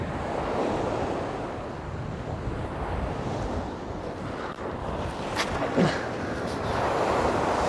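Steady wind blows hard across the open sea of the Bristol Channel, with breaking waves and heavy wind buffeting on the microphone filling the whole stretch, loud and continuous with a few brief gusty surges.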